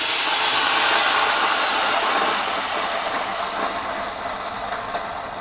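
A small propeller spun by compressed air at 40 psi, a loud rushing whoosh with a high whine that starts strong and gradually fades as the spin slows, no voices.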